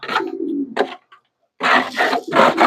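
Pigeons in a home farm loft coo loudly and close, in throaty bursts broken by a brief pause before a further run of calls.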